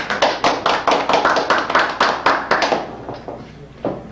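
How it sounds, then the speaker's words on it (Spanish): A small audience at a talk on paraconsistent logic gives a short round of rhythmic hand claps, close and fairly loud, which fade into a few scattered claps. "merece un aplauso"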